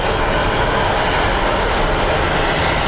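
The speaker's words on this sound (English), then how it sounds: "I can hear the British Airways 777 departing on the other side." British Airways Boeing 777 departing at Phoenix Sky Harbor International Airport, a loud steady jet engine roar filling the whole moment without break.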